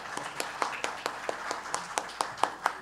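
Welcoming applause from an audience at an academic talk, heard as steady, evenly spaced claps from a modest crowd that stay moderately loud through the whole stretch.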